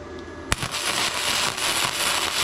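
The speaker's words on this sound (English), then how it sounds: "now I'm going to do a long weld" Steady, dense crackling and sizzling of an ArcCaptain MIG130 MIG welding arc, continuous for a few seconds after a sharp pop at the start, with no talking.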